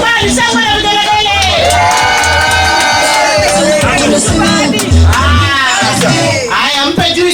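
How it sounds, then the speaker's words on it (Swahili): A crowd cheers and women ululate at a retired senior assistant chief's homecoming ceremony. Loud, continuous whoops and wavering trills overlap with shouting voices and a thumping beat throughout. "Shangwe na vigelegele."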